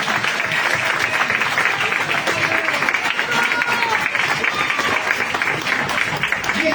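Sustained applause from an audience, dense and steady clapping filling the room with a crowd murmur mixed in.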